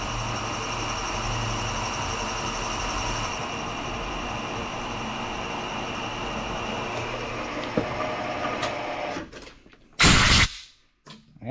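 Drill boring a center sleeve for a 1/4 inch roll pin, a steady loud machine whir and grinding drone that winds down near the end, followed by a short sharp burst of noise.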